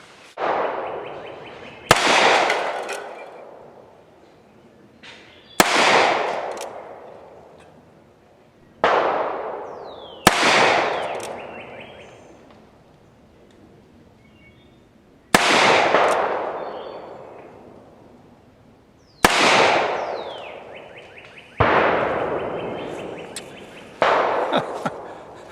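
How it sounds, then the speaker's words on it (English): A Colt Single Action Army revolver fires at tin cans, with sharp, loud reports spaced a few seconds apart, each followed by a ringing decay and echo, about seven shots in all. "let's take the Colt and see if we can rattle some tin"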